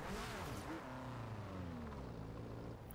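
A Toyota Celica GT drift build in Forza Horizon 2 sets off in third gear, its engine droning steadily with a low laboring tone that climbs slowly, loud and continuous throughout with no voices.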